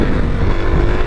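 A motorcycle engine roars steadily and loudly, close up, while the rider pulls a wheelie on the road.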